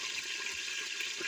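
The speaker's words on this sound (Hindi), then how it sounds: "ऑयल गर्म हो चुका है, अब हम डालेंगे इसमें थोड़ी सी हरी प्याज की पत्तियाँ" Green onion leaves dropped into hot oil in a cooking pan give a steady, even sizzling hiss that holds for the whole brief moment, close and fairly loud, with no voices.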